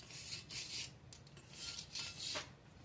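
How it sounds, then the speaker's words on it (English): Engine valves and valve stems from an old Chevrolet C-10 are cleaned by hand, a series of close, rasping scrubbing strokes in uneven bursts with short pauses between them, and no voices. "me cleaning the valves and the stems"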